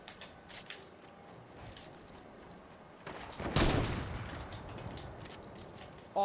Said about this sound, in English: Oh, he has a mounted turret.